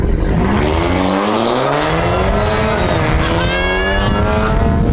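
A friend's modified car engine revs hard and loud, a sustained roar with rising and falling pitch sweeps that climb again near the end, close by.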